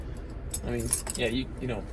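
Car keys jangle and clink in short metallic bursts close by, mixed with a person talking over them.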